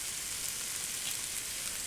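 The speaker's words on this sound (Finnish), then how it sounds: "jospa nyt hetken näitä vielä paistaa" Chicken pieces frying in a pan for a fruity chicken sauce, giving a steady, close hiss and crackle of sizzling fat that stays even throughout with no talking.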